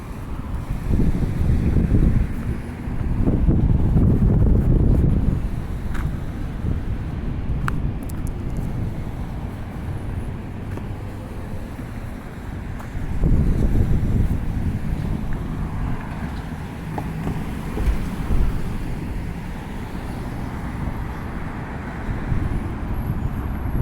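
Strong wind buffets the microphone on the Macdonald Bridge, walking from Halifax toward Dartmouth, in loud rumbling gusts that rise and fall, with a steady roar between them and faint background clicks.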